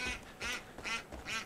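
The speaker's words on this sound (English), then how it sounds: "Freaking birds everywhere." Birds in the video game Far Cry 5 give four honking, quacking calls in an even rhythm, each fairly close and distinct, with no talk over them.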